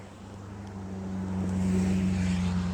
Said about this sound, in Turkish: Bu kadar araba fazla değil mi ya bu?